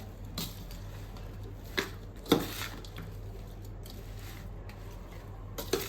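Raw mango pickle pieces are tossed with spices and garlic in a metal vessel, giving a few soft scattered clinks and squishy knocks over a low steady hum.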